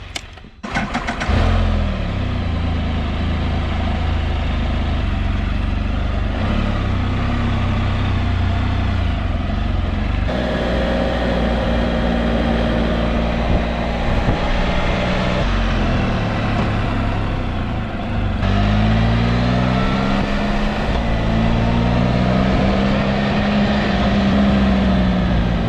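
A 2018 Can-Am Spyder RT Limited three-wheeler starts up and rides off, its engine rumbling loudly and steadily with several rising and falling revs as it shifts and accelerates, close and continuous.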